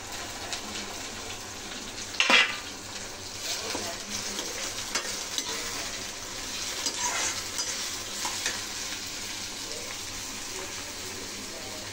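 Onions fry in hot oil in a pan for a leftover-rice biryani, giving a continuous close sizzle with occasional stirring scrapes and a brief louder clatter.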